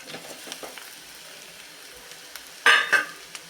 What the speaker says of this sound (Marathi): आता यामध्ये घालतीये मी उकडलेले बटाटे